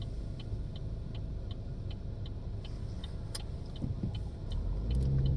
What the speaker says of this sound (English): I was trying to gauge the traffic to turn